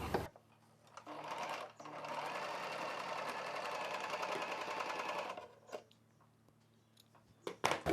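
Sewing machine stitching a folded hem on a maxi dress, one steady continuous run of about four seconds with brief start-stop bursts before and a few small clicks after, close and moderately loud.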